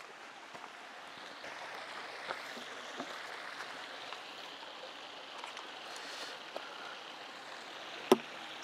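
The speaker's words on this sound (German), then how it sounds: "Hintergrund hier wirklich eine idyllische Stimmung mit den Wasserfällen, die hier oben runterkommt" Waterfalls of the Hörlibach stream in Appenzellerland, near Kloster Wonnenstein, give a steady, even rush of falling water throughout, with a single sharp click near the end.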